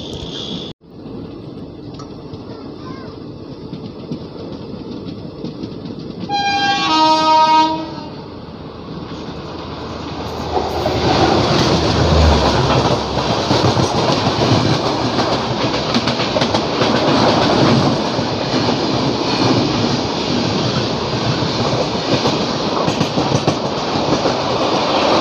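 The Rajdhani Express passes on the rails, its horn sounding briefly before a loud, sustained rush and rumble of wagons with rhythmic clickety-clack, heard close, with no one talking.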